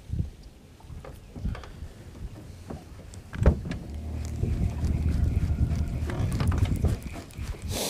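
Wind blowing outdoors during a February fishing outing, with a steady, rumbling gusty roar that builds after a sharp knock midway and holds fairly loud to the end, with a few light clunks.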